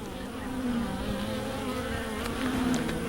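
Honeybees in an opened hive hum in a steady, continuous drone with no talk, loud and close, a dense insect buzz throughout.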